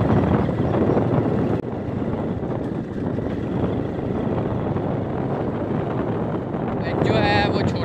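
Steady rushing wind buffets the microphone while riding a 125cc motorbike in hot weather, loud and continuous throughout, with a faint tonal chirp near the end.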